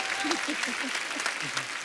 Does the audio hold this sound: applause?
yes